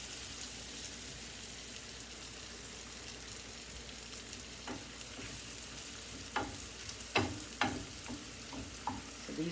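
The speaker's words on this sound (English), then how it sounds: "So these are sauteing nicely." Chicken and mushrooms sauté in a pan, a soft, even sizzle that carries on for several seconds before a few sharper clacks and scrapes of stirring near the end, with no talking.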